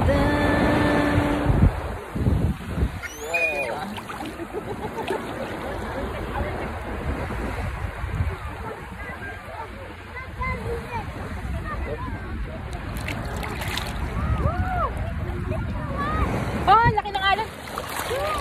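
Ocean waves break at a beach in Ajman, a continuous wash of surf and splashing with wind buffeting the microphone, while people talk and exclaim over it throughout.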